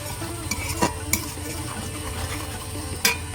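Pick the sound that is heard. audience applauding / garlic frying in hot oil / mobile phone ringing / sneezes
garlic frying in hot oil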